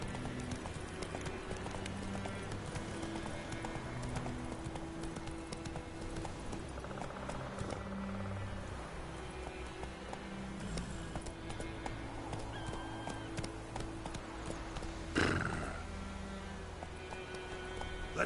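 Roach, a horse in The Witcher 3: Wild Hunt, gallops with steady rapid hoof clip-clops over game music and ambience, and a sharp thud sounds about midway through.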